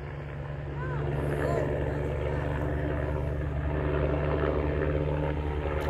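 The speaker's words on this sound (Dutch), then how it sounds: "En daar komt ook de heli aan zweven." A helicopter hovers above a cycling race in Luxembourg, its loud, steady rotor and engine drone swelling after the first second and holding continuously, with faint voices in the background.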